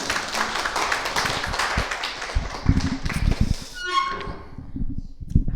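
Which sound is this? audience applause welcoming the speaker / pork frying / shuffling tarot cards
audience applause welcoming the speaker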